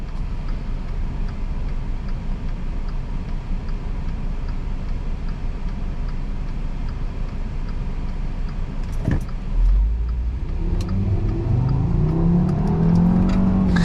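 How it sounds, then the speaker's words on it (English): Inside a 2013 Volkswagen Beetle 50s Edition on a windy day, a steady broadband rush of wind noise rolls on while driving, then the engine note rises in a brief acceleration near the end. "you will definitely hear that wind noise"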